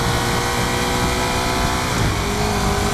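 Ducati 848 Streetfighter motorcycle engine while riding, a loud, close, continuous engine roar with a shift in pitch partway through and no talking over it.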